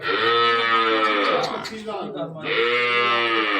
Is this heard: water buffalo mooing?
yes